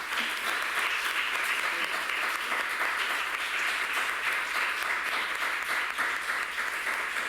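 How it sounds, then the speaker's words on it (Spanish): An audience bursts into steady, dense applause at a talk on gender violence and acquired brain injury, many hands clapping evenly for several seconds at moderate distance. "aparte de este aplauso"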